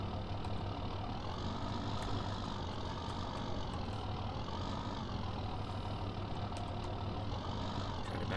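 A tractor engine idles and runs steadily in Farming Simulator 15, a continuous mid-to-low drone at even loudness throughout with no talking.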